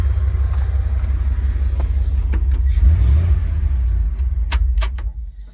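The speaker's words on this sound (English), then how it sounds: "Flowmaster exhaust." A 1953 International Harvester R-110 hot rod engine with Flowmaster exhaust rumbles loudly and deep, swelling in a rev midway, with a few light metallic clicks near the end.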